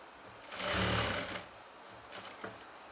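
A sewing machine stitches the hem of a nighty in one loud, close burst of about a second, then a softer, shorter run follows, with no talking.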